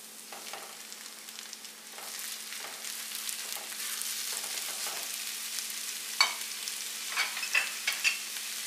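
Chicken pieces fry with onions in a pan, a steady, moderately loud sizzle with stirring scrapes and clatters that grow more frequent toward the end, heard up close with no talking.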